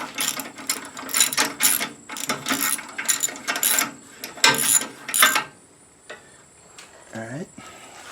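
Ratchet wrench turning a 12mm six-sided socket on a strut bolt of a 1997 Suzuki Sidekick, giving bursts of quick clicking strokes over about five seconds, then stopping; a short voice comes in near the end.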